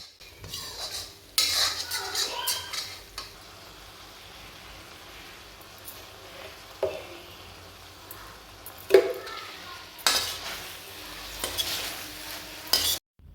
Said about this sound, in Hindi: अब सब्ज़ी को मसाले के साथ अच्छे से मिक्स कर लेते हैं, भून लेते हैं 5 से 10 मिनट तक